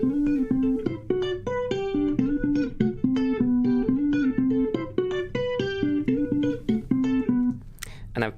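A processed electric guitar plays a continuous melodic line of sustained, ringing notes, loud and close, ending with a short burst of noisy sound.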